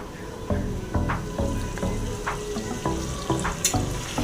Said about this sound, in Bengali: মাটনগুলো কষানো হয়ে গেছে